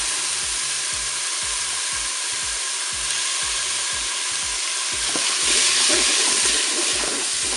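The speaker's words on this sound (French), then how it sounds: "Je vais maintenant ajouter mes oignons." Onions fry in a Cookeo multicooker pot, giving a steady, close sizzle with faint rhythmic stirring scrapes underneath and a brief louder hiss toward the end, with no talking.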